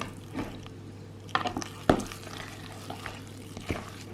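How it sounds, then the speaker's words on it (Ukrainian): Batter for banana cottage-cheese pancakes being stirred in a bowl, quiet scraping and soft wet clicks with a few sharper knocks against the bowl, close and sparse over a faint steady hum. "Перемішуємо."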